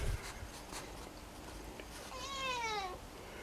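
A cat meows in a long, rising-then-falling call near the end, fairly close, with low workshop rumble beneath and no talk.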